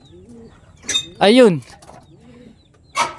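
Young racing pigeons in a loft give soft cooing and throaty calls in short bursts, close by, while someone speaks briefly between them.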